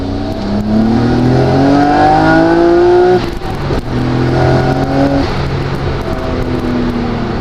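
A loud turbocharged Nissan R32 GT-R engine revs hard from second gear through the gears, rising pitch climbing, a brief drop at a shift, then pulling up again, close and continuous.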